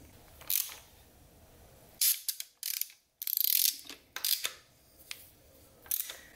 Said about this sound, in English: Next I'll just put the 4th drum bolt and center support bolts in.